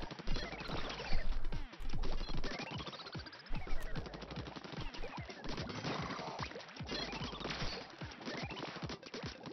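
Gunfire in the online battle game Realm Royale comes in repeated bursts of rapid shots with thuds and impacts, loud and busy throughout with no talking.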